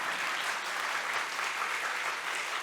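Steady applause from a church congregation at a revival meeting, a dense even clatter of many hands filling the whole stretch without a break.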